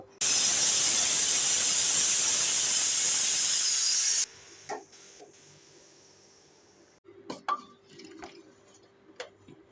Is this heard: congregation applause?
no